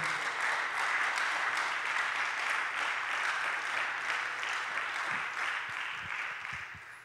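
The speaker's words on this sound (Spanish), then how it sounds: "Dele ese aplauso al Señor" A congregation claps together in a sustained, even round of applause that fades slightly toward the end.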